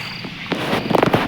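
A few sharp firecracker pops, then a quick cluster of cracks near the end, over a faint steady background hiss.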